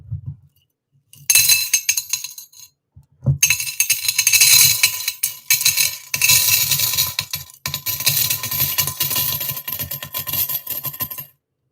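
Dimes are poured into a glass in several long cascades, a dense bright jingle of coins clinking against glass, with short pauses between pours, close and loud.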